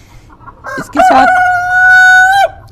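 A Light Sussex rooster on a rooftop farm gives one loud, close, drawn-out crow after a few short clucks, with a brief voice speaking just before.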